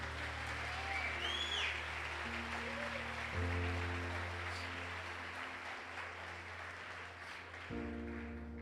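Sustained applause from a congregation at a church service, a broad, even clapping wash lasting throughout over sustained keyboard chords, with a voice faintly in the mix.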